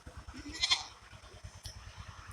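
Goats, both small kids and larger adults, bleat on a hot, windless day: a short, faint bleat or two rises over soft, regular low pulses of background noise.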